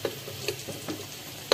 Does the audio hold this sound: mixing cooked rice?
yes